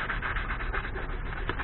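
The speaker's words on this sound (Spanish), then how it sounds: "voy a darle un poquito más de lija" Sandpaper rubs back and forth over the paint of a BMW 320Ci E46 in quick, even strokes, a close, dry scratching that repeats several times without pause.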